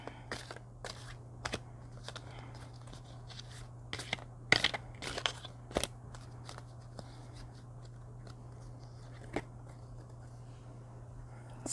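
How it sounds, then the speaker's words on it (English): Oracle cards are shuffled clumsily by hand, producing scattered soft clicks and brief riffling snaps over a low steady hum in a quiet room, with no talking. "forgive my clumsy shuffling here"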